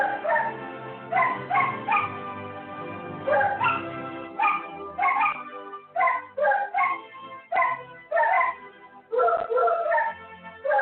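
A dog gives repeated short barks and yips in irregular bursts, close and fairly loud, some calls drawn out and whining almost like singing.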